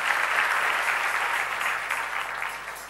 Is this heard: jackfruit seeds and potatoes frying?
no